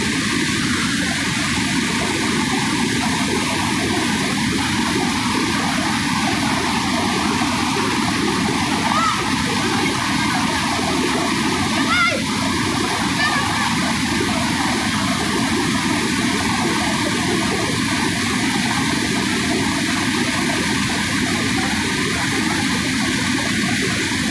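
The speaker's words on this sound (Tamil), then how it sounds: "தண்ணியோட சவுண்ட் எப்படி இருக்கும் பாருங்க." Heavy floodwater roars steadily over the Kozhikkarai waterfall, a loud, unbroken wash of rushing water that holds constant throughout with no pauses.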